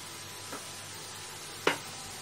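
Washed gourd greens go into a pot of boiling water and get stirred: a soft bubbling bed broken by a faint knock and then one sharp, clear clatter of the utensil against the pot.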